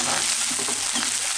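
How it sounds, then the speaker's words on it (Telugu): Onions frying in a pan for sambar give a steady, close, continuous hiss and sizzle with faint stirring, and no voice. "ఇవి కొంచెము దోరగా వేగాలండి కొంచెం వేగినాయండి"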